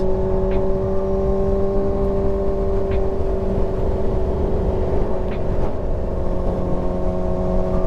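Motorcycle ridden on a road, a Kawasaki ZX-6R 636, its engine a steady loud droning hum with constant wind rumble throughout, no pauses.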